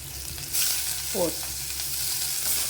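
Green chilies hit hot oil in a pan and the sizzle swells suddenly, then settles into a steady, crackling fry heard up close with occasional stirring.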